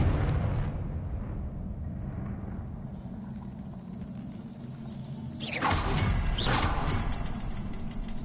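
A Confringo explosive spell fired in the Hogwarts Legacy video game: a rumbling mechanical bed, then two sharp whooshing bursts in quick succession near the end, loud and close, with no talk.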